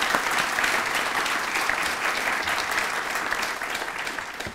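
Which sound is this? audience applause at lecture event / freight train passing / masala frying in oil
audience applause at lecture event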